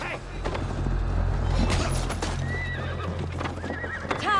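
Hoofbeats of several horses thud steadily with occasional whinnies, layered over a dense rumbling soundscape with scattered shouts during the Siege of Paris in Assassin's Creed Valhalla.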